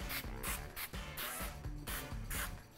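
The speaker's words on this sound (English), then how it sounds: "So just give each of these rings a nice light coat of olive oil spray." Quiet, close bursts of olive oil spray hiss in a quick rhythm, each short puff coating onion rings laid on a baking sheet before air frying.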